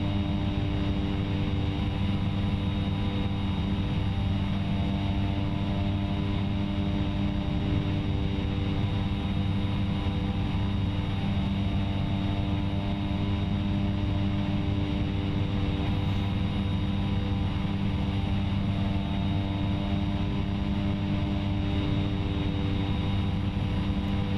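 A propeller airliner climbing after takeoff in a flight simulator on an island-hopping route between Kahului and Kona, Hawaii: a steady, loud, droning engine hum with constant tonal layers, running unbroken throughout with no talking.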